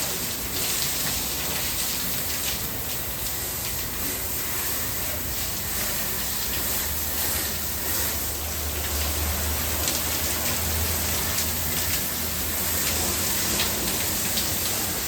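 A pressure water spray rinses the siding of a 100-year-old house during softwashing, producing a continuous loud hiss and splatter like heavy rain, with a low pump rumble rising in the second half.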